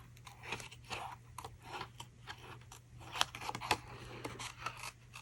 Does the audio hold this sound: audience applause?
no